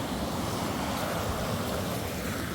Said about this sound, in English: Made it to the top of the falls.